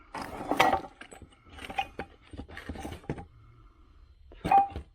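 Bolts and lug nuts rattle and clink as hands dig through a metal bucket of parts, with irregular close bursts of metallic jangling separated by short pauses.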